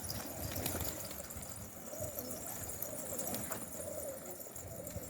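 Soft, low cooing comes from a Pakistan breed pigeon, faint and somewhat distant against quiet outdoor background noise.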